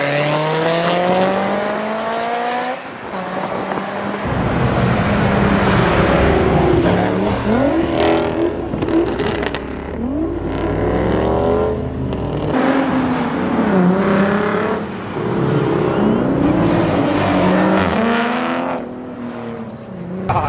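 A Chevrolet Camaro ZL1 revs hard and accelerates away from a car meet, its loud V8 engine note climbing and falling through repeated gear changes over steady ambient noise.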